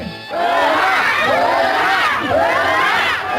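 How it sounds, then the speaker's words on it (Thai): A studio audience on a Thai game show cheers and whoops loudly and steadily, a dense, continuous wall of crowd noise with no talk. "เอ้าเชียร์กันหน่อย"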